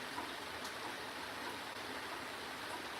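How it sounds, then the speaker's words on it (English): Steady heavy rain falls outside and makes a dense, even hiss throughout, with no voices. "It's been raining hard for a while."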